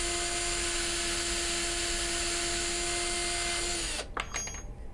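A power drill spins a wooden dowel through a homemade dowel maker, giving a loud, steady, high whine with a droning tone that runs several seconds before abruptly stopping into a few rattling clicks.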